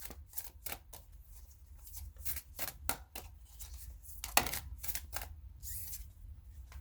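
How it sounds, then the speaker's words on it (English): Tarot cards are shuffled in quick, crisp riffling bursts separated by short pauses, close and fairly quiet, with one sharper snap partway through. "So let me grab a couple more cards"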